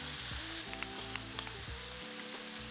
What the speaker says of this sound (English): Fry for 4 to 5 minutes until golden on one side